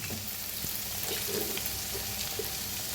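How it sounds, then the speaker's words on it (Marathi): Spices including turmeric and red chilli powder roasting with green chillies in a pan, a soft continuous sizzle and crackle with occasional stirring scrapes, close and steady. "आता छान भाजून घ्यायचं याला"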